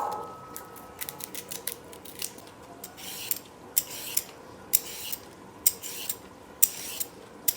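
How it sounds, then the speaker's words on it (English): Dry, rhythmic scraping strokes from a peeler on onion and carrots, close and steady, repeating roughly once a second with no talking. "we're going to just peel the onion and the carrots."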